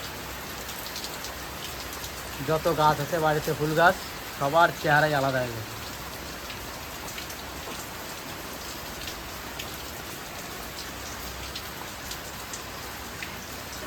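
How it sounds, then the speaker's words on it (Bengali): Rain falls steadily with a constant soft hiss of drops on surfaces; a person speaks briefly early on, then only the rain continues. "কদিন ধরে কদিন ধরে বৃষ্টি হচ্ছে"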